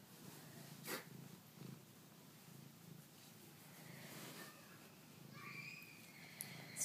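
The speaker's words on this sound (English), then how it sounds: "She's purring." A cat purrs softly and close by, with low rhythmic rumbling pulses and a few small snorts or chirps near the end.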